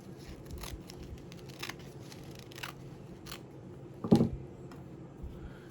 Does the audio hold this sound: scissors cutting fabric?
yes